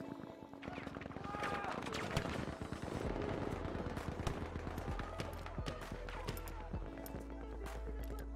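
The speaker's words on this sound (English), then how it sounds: "You're getting shot." Dense, rapid gunfire in a Battlefield-style video game battle: overlapping automatic bursts and single shots rattle continuously throughout, over a steady low rumble.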